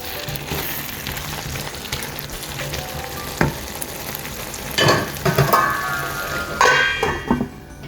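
Prawn and potato chili fry sizzling steadily in a hot pan, with occasional stirring scrapes and clinks of a utensil against the pan rising toward the end.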